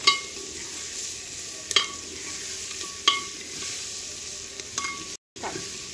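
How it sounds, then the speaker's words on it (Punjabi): Onions sizzle steadily in hot oil as they fry toward golden brown for pakora kadhi, with occasional sharp scrapes and clinks of a spoon against the pan and one brief silent gap. "ਪਿਆਜ਼ ਨੂੰ ਅਸੀਂ ਚੰਗੀ ਤਰ੍ਹਾਂ ਜਿਹੜਾ ਹੈਗਾ ਜੀ ਭੁੰਨ ਲੈਣਾ 골ਡਨ ਕਰ ਲੈਣਾ 골ਡਨ ਬ੍ਰਾਊਨ"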